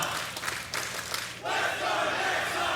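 The esports crowd at an ESL Challenger Melbourne 2022 Counter-Strike match between OG and Entropiq on Mirage roars and cheers, dense and loud, rising sharply midway through.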